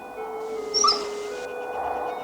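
A dog gives a brief, high whimpering yelp close by, one short cry rising out of a quiet, steady background.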